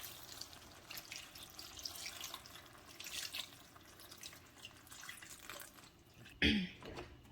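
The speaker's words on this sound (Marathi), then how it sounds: "आता ह्यात आपण पाणी ऍड करूया. हे बघा, हळूच मी पाणी ऍड करते" Water poured slowly into a crab masala gravy in a Malvani-style pot, a soft trickling and dripping flow under low background noise, ending in a brief louder splash near the close.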